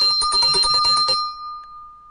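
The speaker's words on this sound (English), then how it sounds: "You've got a tea bell." A tea bell rings with a bright, rapid metallic trill that sounds close and loud, then stops and leaves a clear tone fading away.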